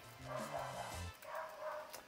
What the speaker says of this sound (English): You might hear my dog barking in the background